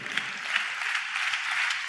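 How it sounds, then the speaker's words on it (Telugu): A congregation at a church service claps in a soft, steady patter that sounds somewhat distant, with small rhythmic surges and no clear talking. "చప్పట్లు కొడుతూ స్తోత్రాలు చెప్దాం"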